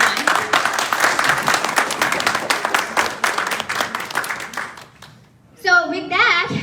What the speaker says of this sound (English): can we have a big round of applause for that one?